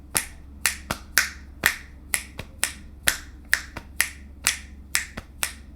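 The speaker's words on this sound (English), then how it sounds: "I'm going to hit my shoulder for the 2 and I'm going to snap with a 3" Crisp finger snaps in threes interleaved with duller shoulder taps in twos form a steady, interlocking three-against-two polyrhythm, close and clear with no talking.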